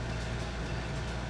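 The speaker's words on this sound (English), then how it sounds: "You may be able to hear my air conditioner in the background." A household air conditioner runs as a faint, even hum with a low drone, unchanging throughout.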